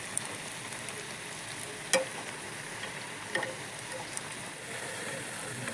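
Coriander leaf pakoras deep frying in oil, a low, even bubbling sizzle with a few faint clicks of a utensil, fairly quiet and without talk.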